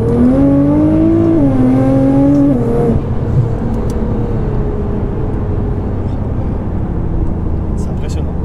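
A Nissan GTR tuned to Stage 3+ with 700 hp pulls hard under acceleration, its engine note rising steadily, dipping briefly at a gear change, then droning on loud and close inside the cabin while people talk over it.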